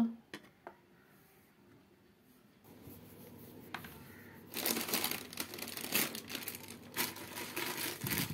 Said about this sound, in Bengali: এখন মাছগুলো মেখে নেব